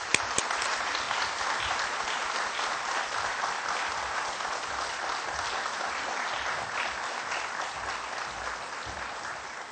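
An audience at the 2nd Dongmyeong Award ceremony gives steady, even applause that holds for about ten seconds, a dense wash of clapping with a few sharper claps at the start.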